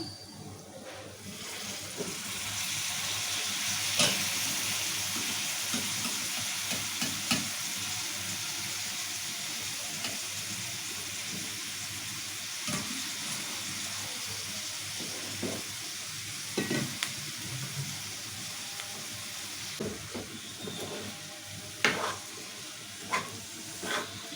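Cauliflower and chana dal frying in hot oil, a soft steady sizzle with scraping stirs of a spoon in the pan and occasional clinks, close and quiet, no talk.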